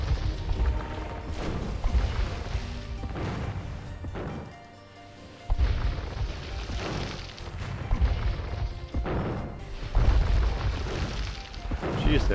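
Siege weapons pound away in a battle in Age of Empires II, with repeated heavy crashes and booming impacts in an irregular rhythm over busy game noise and a brief lull midway.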